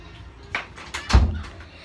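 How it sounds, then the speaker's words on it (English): A door being locked gives a few short knocks and scrapes, ending in a single louder thud and clack from nearby. No one speaks during it. "He damn locked the door."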